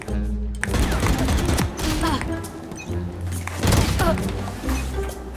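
Scattered gunshots and impacts crack through a shooter video game, mid-level and irregular, while someone talks over them and game effects fill the gaps.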